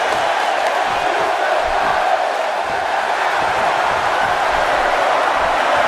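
Roaring wrestling arena crowd in a video game match featuring Chris Jericho, a steady dense wall of cheering and shouting that holds at full volume throughout.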